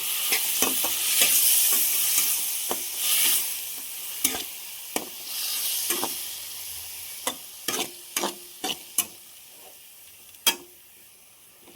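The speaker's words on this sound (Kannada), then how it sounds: "ನಾನಿಲ್ಲಿ ಮಶ್ರೂಮ್ ಹಾಕ್ಕೊಂಡೆ" Mushrooms fry in a pan with a soft sizzle while a utensil scrapes and knocks against the pan in irregular bursts, fairly close, with quiet gaps between the stirring strokes.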